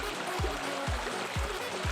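Stream water flows near a hill temple in the Satpuda range at Manudevi, a soft, steady rush under a row of regular low thumps about every half second.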